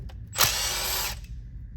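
A power tool, sounding like a drill or impact driver, spins a bolt on the timing chain tensioner of a 3.6 Pentastar engine in one loud, close burst of less than a second. It winds down quickly afterward.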